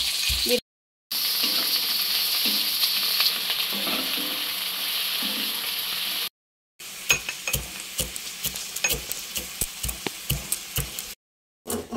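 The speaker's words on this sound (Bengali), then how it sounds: "বেরেস্তার পেঁয়াজগুলো আমরা এখন কড়াই তুলে দিলাম" Onions for birista frying in a wok, a steady close sizzle broken by short gaps, then crackling with repeated spoon scrapes and clicks against the pan.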